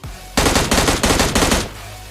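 A sustained burst of AKM automatic fire in PUBG Mobile Lite, roughly a dozen rapid shots in quick rhythmic succession for just over a second, loud and close, then cutting off abruptly.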